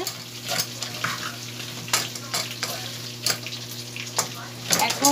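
Okra frying in a pan with a steady sizzle, broken by repeated close scraping strokes of a spatula at an uneven rhythm.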